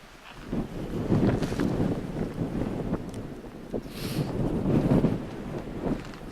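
Strong wind gusts across a microphone at the rim of the steep Fish River Canyon, swelling and easing in loud rumbling buffets with no talking.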